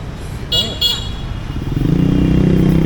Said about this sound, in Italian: ti senti assediato dalle moto